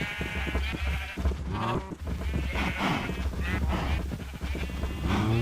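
Sheep in a modded Minecraft-style farm game bleat repeatedly, with layered bleats overlapping a busy, loud game soundscape across the whole stretch.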